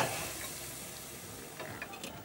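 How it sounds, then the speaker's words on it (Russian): Oyster mushrooms bubble in a soup pot, a soft steady simmering hiss with a few faint pops, close and quiet. "Грибочки наши кипят, уже сварились."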